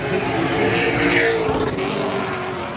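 A late model race car circles a short oval speedway during qualifying, its engine a steady, fairly loud drone that swells as it passes, with no talk heard.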